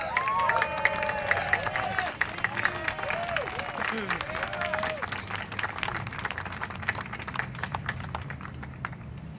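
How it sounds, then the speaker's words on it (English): Crowd at an Occupy the NRA rally in Washington DC clapping and cheering, with whoops and shouts early, steady applause continuing throughout, somewhat distant. "Please, everybody, clap and just cheer for Nardine Jeffries for being here."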